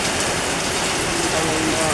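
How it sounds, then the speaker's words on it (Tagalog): Steady, dense hiss of heavy rain pouring down, constant and close with no pauses. "bigla na lang lumakas ang ulan"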